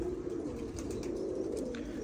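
Soft, low pigeon cooing murmurs steadily against a dull background hum, with a few faint higher chirps scattered through.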